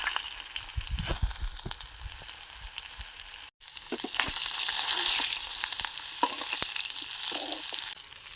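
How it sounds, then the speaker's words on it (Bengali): Eggplant fries lightly in a little oil in a pan, a steady close sizzle with occasional stirring taps, briefly cut off near the middle before the hiss returns stronger. "বেগুনটা বেশি ফ্রাই করব না জাস্ট হালকা তেলে একটু ভাজবো"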